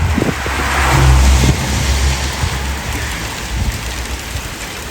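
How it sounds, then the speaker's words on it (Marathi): Heavy rain mixed with small hailstones pours down outdoors in a steady, loud roar, with a low rumbling hum underneath throughout. "हे बघा इतका जोरात पडतोय ना थोडा गारांचा पाऊस पडतोय"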